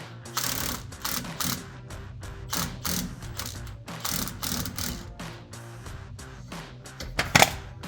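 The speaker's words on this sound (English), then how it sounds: "to help you get that bolt out, you can, with your impact," An impact wrench works loose a rear shock absorber nut on a RAM 1500 pickup, firing in repeated loud rattling bursts with short pauses, ending in a sharp metallic clank, close up and without talk.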